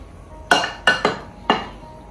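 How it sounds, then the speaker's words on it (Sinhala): A spoon mixes date cake batter around a bowl, striking the side in four sharp, bright clinks spaced irregularly over a quiet background. "ආයෙත් එක සැරයක් මේ විදිහට වටේ තියෙන ටික ඔක්කොම කලවම් කරනවා."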